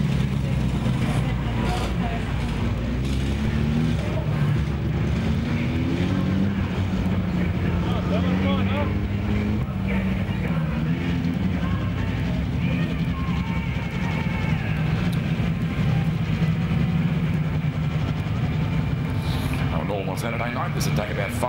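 Race cars lap the track at Archerfield Speedway during an officials race, making a continuous distant engine roar mixed with wind buffeting while a commentator talks over it throughout.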